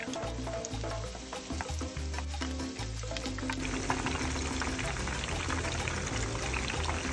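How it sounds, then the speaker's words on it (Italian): Battered zucchini flowers fry in boiling oil, giving a dense, continuous crackling sizzle that holds close and steady throughout, with no voices. "Immergete nella pastella il fiore e man mano versateli nell'olio bollente."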